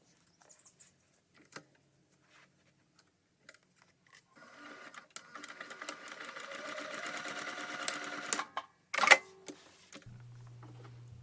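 A sewing machine stitches along the gusset line of a crossbody bag, a steady mechanical run of about four seconds after a few light clicks, ending with a sharp clack and a low hum.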